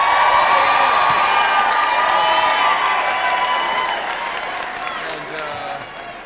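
Town hall audience at a Senator Tom Cotton event in Arkansas cheering, whooping and applauding loudly, a dense sustained roar that slowly eases toward the end.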